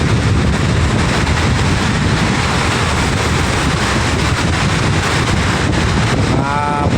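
Strong wind roars across the microphone over big rough waves on Manila Bay near a fishing boat, a steady loud wash of noise throughout.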